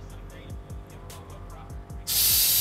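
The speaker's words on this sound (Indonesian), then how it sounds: "Nah, kalian bisa dengar kalau mobil ini diceperin." A Toyota FT 86 Rocket Bunny's air suspension deflates toward 0 PSI to drop to its lowest stance, a sudden loud, sustained hiss of escaping air that bursts in after a stretch of quieter rhythmic background sound.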